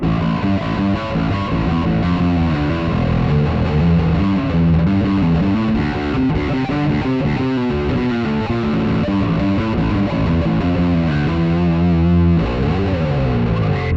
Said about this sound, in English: You can get some crazy bass fuzz tones. It's really crunchy.